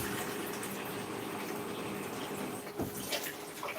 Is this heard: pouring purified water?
yes